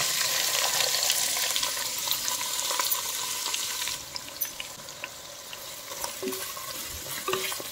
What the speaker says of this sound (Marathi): हा कांदा गुलाबी कलर येईपर्यंत छान भाजून घ्यायचे